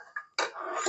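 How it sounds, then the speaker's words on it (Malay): A sharp metallic clatter as a metal spatula hits a hard kitchen floor, followed by a brief ringing rattle, close by and loud. "jatuh pula sudip ni"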